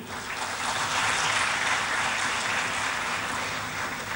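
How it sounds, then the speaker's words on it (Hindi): Applause from the audience at a national teachers' award ceremony welcoming Upendra Kushwaha, a continuous dense wash of clapping from a large crowd, steady throughout without talk. "उनको भी हम तालियों से स्वागत करेंगे"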